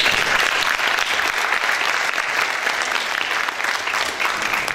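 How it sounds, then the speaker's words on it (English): A large audience at a paranormal expo benefit in Moravia, New York, applauds with loud, sustained clapping that stays steady throughout and has no speech over it. "can you guys give them a huge round of applause"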